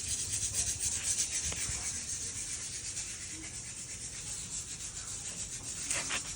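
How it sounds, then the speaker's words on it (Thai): Cloth or pad rubbing dust off a 2019 Vespa Sprint 150 scooter's body, a steady close scrubbing hiss in repeated strokes, faint and continuous without talk. "พวกนี้เป็นค่าฝุ่นนะครับขัดออกนะครับ"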